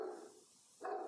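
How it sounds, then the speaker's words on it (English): Two faint dog barks sound in the distance, one at the start and another near the end, separated by a short quiet gap. "Please ignore the dogs."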